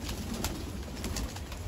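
A pigeon coos softly on a Delhi rooftop, a brief low call set against a dense, steady outdoor background noise.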